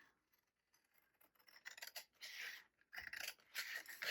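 Scissors snip through a paper scrapbook tag during a crafting session, giving a few close, quiet crisp cuts and rubbing scrapes with short pauses between them.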